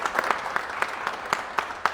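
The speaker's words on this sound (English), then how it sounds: "I want to give Tien and Christian a big round of applause." Audience applause after a real estate networking talk, a short, modest burst of scattered clapping from a small room with distinct individual claps.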